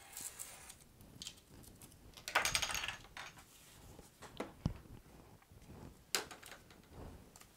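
The edge of a paper pop-out card is trimmed with a series of faint, close, irregular clicks and crisp snips, quiet apart from a few sharper bursts, with no talking.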